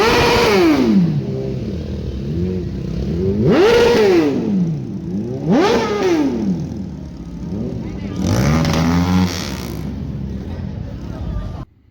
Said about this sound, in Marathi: तर तुम्ही बघू शकता त्यांच्या गाडीचा आवाज, एकदम रायडर बाईक आहे मस्त.